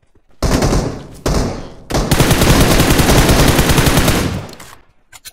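Sustained automatic gunfire in PUBG Mobile: two short bursts followed by a long, loud, close volley of rapid shots, then a few faint single pops.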